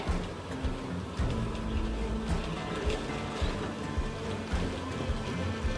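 A Mercruiser 6.2 marine engine, one with an intermittent power loss under load, runs in a dense, steady drone with slight surges as it is briefly bumped, heard close and continuous without talk.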